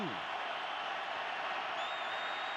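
Stadium crowd roaring at a Patriots at Cardinals NFL football game, a steady dense wash of noise filling the whole stretch, with a voice talking over it.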